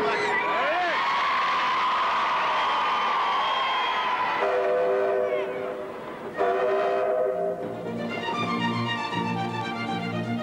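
Steam locomotive 532 Blue Peter sounds long wavering whistle blasts, loud and close, over the rumble of the moving train, with a crowd's murmur and voices in the background.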